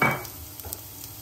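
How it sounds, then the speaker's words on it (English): Garlic cloves hitting 3 tablespoons of hot olive oil, a brief stirred sizzle that is loudest at the start and then settles into a soft, steady frying hiss. "Add 3 tablespoons of olive oil. We add the garlic,"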